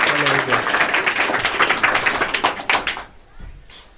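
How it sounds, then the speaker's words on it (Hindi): Classroom students burst into applause for a classmate during a science lesson, a dense run of overlapping claps near and loud that thins out and fades toward the end, with a voice briefly heard at the start. "ताली बजा दो इसके लिए।"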